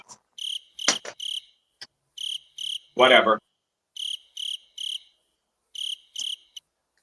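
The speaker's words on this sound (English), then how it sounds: "I was playing crickets for you." Cricket chirps played from a soundboard come in short evenly spaced bursts against silence, with a brief spoken word breaking in midway.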